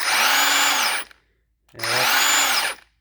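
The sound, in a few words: Snap-on 18V brushless impact wrench running and braking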